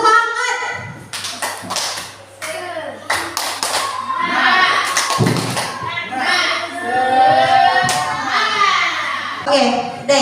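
A group clapping in unison during an icebreaker game, sharp bursts of claps mixed with lively voices and chatter throughout.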